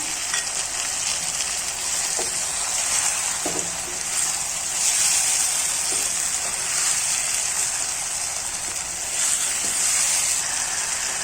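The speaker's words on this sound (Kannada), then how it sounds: "ಇವಾಗ ಟೊಮೆಟೊ ಫುಲ್ ಹಾಕೊಳ್ತಾ ಇದ್ದೀನಿ." Chopped tomatoes frying in oil for a mushroom gravy, a steady, fairly loud sizzle with bright hiss and occasional soft stirring knocks throughout, no talking.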